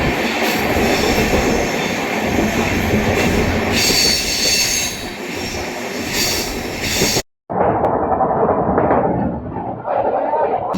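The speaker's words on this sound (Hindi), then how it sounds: "भाई गाड़ी अपनी पूरी 130 दौड़ रही है।" An Amrit Bharat Express train runs at 130 km/h on its inaugural Howrah to Anand Vihar (Delhi) journey, heard from inside with loud, continuous rushing rail noise, wheel roar and squeal, briefly cutting out before resuming.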